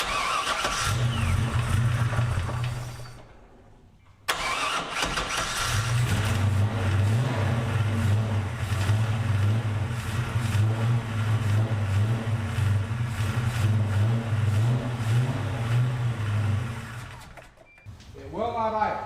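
A 1978 Pontiac Firebird engine running roughly and refusing to idle, a loud close rumble that cuts out briefly, then restarts and runs steadily for over ten seconds before dying away again.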